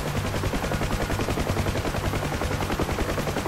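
Rapid machine-gun fire from a UH-1H Huey door gunner in the DCS combat flight sim, a dense continuous stream of shots in long bursts, loud and close, layered over rotor and engine noise.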